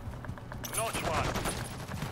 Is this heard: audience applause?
no